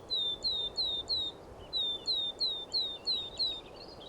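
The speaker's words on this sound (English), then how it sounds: "White-throated kingfisher." A white-throated kingfisher calls with a steady series of shrill, descending whistled notes, repeated evenly in two runs and heard clearly against a soft background hiss.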